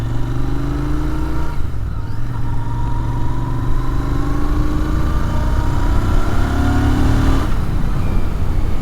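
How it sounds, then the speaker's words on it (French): A 2023 Royal Enfield Interceptor 650 parallel-twin motorcycle engine pulls steadily under load close by, its deep throbbing exhaust rising in pitch through the gears with brief dips at the shifts, continuous and without talk. "la sonorité là, du petit bicylindre est vraiment sympa"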